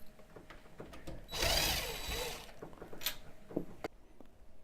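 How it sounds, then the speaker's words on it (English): A power driver backs screws out of a door's mortise plate, one steady whirring burst of about a second in a quiet room, followed by faint clicks and handling noises. "I'm going to start off taking out the screws in the mortise plate. I'm going to use the power driver just because it's fast."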